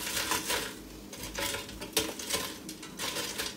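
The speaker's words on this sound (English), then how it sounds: "Go ahead and flip these over." Chicken tenders are turned over in the metal basket of an Omorc air fryer, with a run of close, light clinks and scrapes of tongs against the basket.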